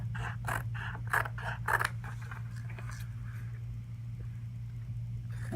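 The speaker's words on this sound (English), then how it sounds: "So we're going to cut around the perimeter of the 2 prints first." Scissors cutting around the edges of photo prints, a quick series of crisp close snips at first, then quieter sliding cuts over a low steady background hum.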